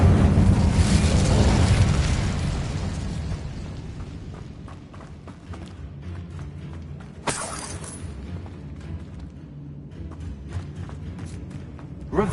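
Casting the Incendio fire spell in Hogwarts Legacy unleashes a loud roaring blast that gradually fades into crackling and rumbling, followed by a sharp crack and scattered clatter.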